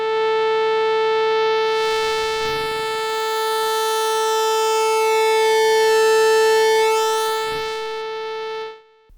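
A sustained, buzzy synthesizer tone from a Neutral Labs Elmyra2 with its bite distortion engaged, rich harmonics and a slowly sweeping upper edge, loud and steady throughout before cutting off near the end.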